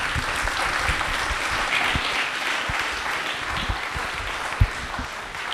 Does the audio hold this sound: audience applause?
yes